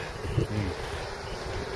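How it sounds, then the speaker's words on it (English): Wind blows steadily across a mountain top, a broad rushing roar with microphone buffeting, loud and continuous with no voices. "Now this is more windy."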